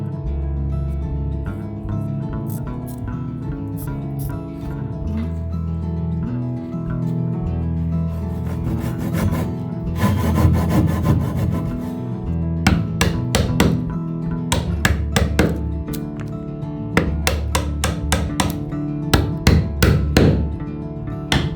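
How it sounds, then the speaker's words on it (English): A mortise is cut by hand into a wooden door jamb to hold a kamoi lintel. Sharp, close wooden strikes come in rhythmic bursts and steady runs, with no voices. "I'll mark the door jamb so that it is perpendicular to the floor, then cut the mortise for the Kamoi."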